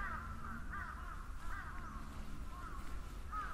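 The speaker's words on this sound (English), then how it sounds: "those crows are saying, it's lunchtime," Distant crows caw in scattered, repeated bursts over a steady outdoor hum in a park in Matsudo, Japan, faint and overlapping.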